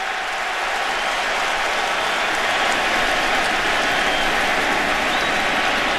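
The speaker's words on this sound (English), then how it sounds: "I think that's the first time I've heard the crowd here today." Stadium crowd at an NFL game between the Patriots and Jets, a dense, steady roar of cheering and noise that stays loud and unbroken from start to finish with no clear speech.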